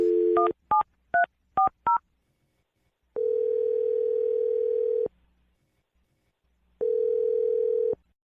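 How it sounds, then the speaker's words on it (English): A telephone number is keyed in as a quick run of about six short touch-tone beeps, followed by two long, steady ringback tones separated by silence, clean and close with no talking. "I'm going to dial the phone number right now"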